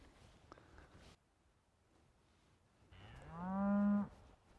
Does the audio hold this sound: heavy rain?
no